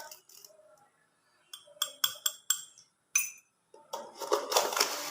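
Dishes and utensils clink and tap sharply in a home kitchen while tea is made, a string of short, close metallic knocks with brief pauses, then a busier rattle of handling at the end.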